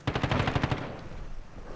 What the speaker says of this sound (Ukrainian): Акуратно, десь стріляють.